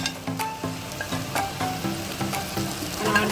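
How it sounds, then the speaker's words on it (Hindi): Stuffed karela with minced meat frying in oil in a pan, a close, constant sizzle broken by repeated sharp spatula scrapes and taps at an uneven, brisk pace. "इसको अच्छी तरह भूनना है।"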